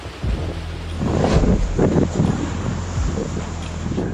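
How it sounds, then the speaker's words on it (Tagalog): Strong whistling wind in San Fernando, La Union, roars and gusts close to the microphone, with heavy buffeting rumbles rising and falling throughout. "sumisipol ang malaipo-ipong lakas ng hangin"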